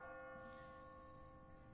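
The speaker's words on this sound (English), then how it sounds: "What kind of church bell goes off at 20 past the hour?" An automatic church bell on a timer in The Walking Dead video game rings out in a single loud, resonant stroke with long sustained overtones that hang and slowly decay, with no talk over it.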